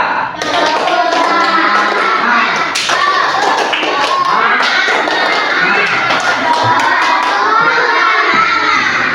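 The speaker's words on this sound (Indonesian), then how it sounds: "Coba tepuk semangat." A group of schoolchildren in a classroom clap a rhythmic cheer together, loud dense hand claps with excited voices and shouts mixed in, continuing steadily throughout.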